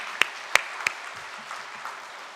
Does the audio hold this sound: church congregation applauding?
yes